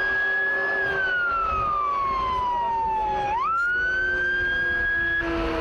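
Emergency vehicle sirens from fire engines and ambulances responding to a fire at a refinery hydrocracking unit wail steadily, with a long falling then rising tone over constant traffic rumble, loud and close.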